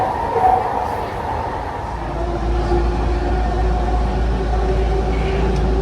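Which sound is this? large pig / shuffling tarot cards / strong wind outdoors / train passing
train passing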